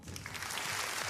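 Brief burst of audience clapping during a Pokémon card pack opening, a dense smeared wash of claps lasting about a second with no speech over it.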